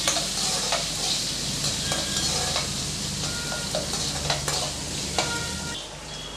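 Cut beans sauté in a pan for corn rava upma, giving a steady close sizzle broken by scattered scraping clicks of a spoon stirring through the vegetables.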